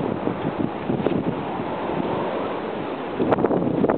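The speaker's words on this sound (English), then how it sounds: "Man, that wind is crucial." Wind gusts across a ski slope on a warm day, buffeting the microphone with a loud, steady roar that swells again near the end, with no voices.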